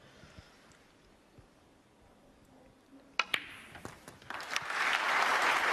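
A snooker crowd at the 2017 UK Championship, Neil Robertson against Ken Doherty, applauds a century break: quiet at first, then clapping breaks out at about the midpoint and swells into sustained, fairly close applause.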